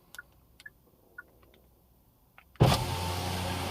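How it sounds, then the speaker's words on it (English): Power windows on a 2024/2025 Hyundai Kona start lowering when the key fob unlock button is held, a steady electric motor whir that begins abruptly after a few faint clicks and runs on loudly and evenly with no talk. "if you hold down the unlock button on your key fob, the windows will open"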